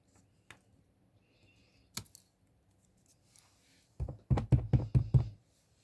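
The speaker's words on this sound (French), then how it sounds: "je vais choisir volontairement de tamponner à la lisière" Rubber ink stamp pressed repeatedly onto card paper at the edge of the sheet, a quick run of five or six close, firm thumps after a couple of isolated taps, near and fairly loud.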